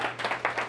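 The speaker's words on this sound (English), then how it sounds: "let's give him a All round right. of applause." Brief burst of audience applause at a maker showcase presentation, a small crowd clapping steadily with no talk over it.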